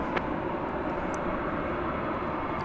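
An airplane taking off at DFW Airport makes a steady, broad engine roar heard from a distance, constant throughout with no talking.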